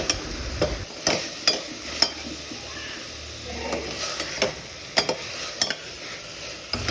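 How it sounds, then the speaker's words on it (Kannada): Fresh green peas stirred into frying onions in a pan, with soft sizzling under repeated scraping and clinking spoon strokes against the metal, close up, with no voices. "ಹಸಿ ಬಟಾಣಿನ ಚೆನ್ನಾಗಿ ತೊಳ್ಕೊಂಡು ಅದನ್ನು ಕೂಡ ಸೇರಿಸ್ಕೊಂಡು ಚೆನ್ನಾಗಿ ಮಿಕ್ಸ್ ಮಾಡಿಕೊಂಡ್ರೆ ಸಾಕಾಯಿತು."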